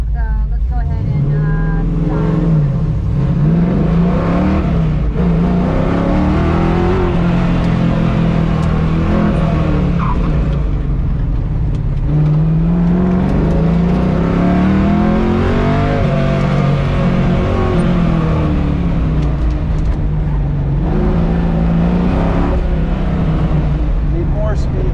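A race car engine revs loud and close throughout a run on an autocross course at Crows Landing, rising and falling repeatedly as it accelerates, brakes and shifts through the turns.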